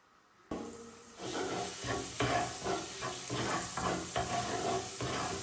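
Two tablespoons of ginger garlic paste hit hot oil with a sudden sizzle that swells into a steady, close frying hiss with bursts of crackle, no talking.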